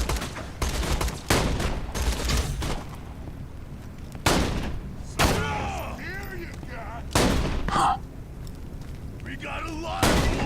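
Fire Burst gun in Borderlands 2 firing in several loud bursts of gunshots with booming impacts and crackling fire between volleys, with gaps of quieter background game noise.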